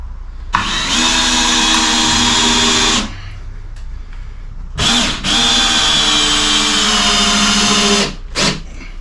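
A power drill drives a countersunk screw while building garage storage, giving two long, loud whirring runs of a few seconds each and a short final burst, with quiet pauses between.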